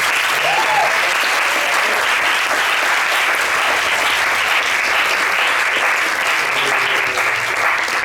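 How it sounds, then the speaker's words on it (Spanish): Audience applause after a book presentation fills the whole stretch, a dense steady wash of many hands clapping at an even level without pause. "un aplauso así"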